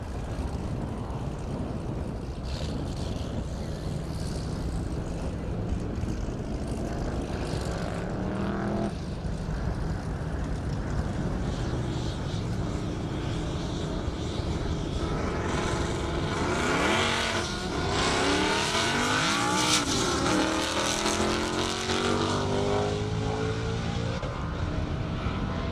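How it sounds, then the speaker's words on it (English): A roughly 1,000-horsepower race car on a half-mile airstrip course, heard from a distance as a rising engine roar that swells and sweeps in pitch as it accelerates past, over a steady background hum. "Got a couple more high horsepower cars coming up."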